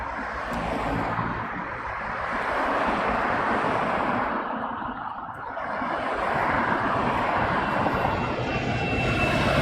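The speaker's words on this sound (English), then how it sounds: "BizJet coming in." A business jet comes in to land at London Heathrow Airport, its engine roar a broad distant rumble that swells, eases briefly and builds again, steady and unbroken with no voices.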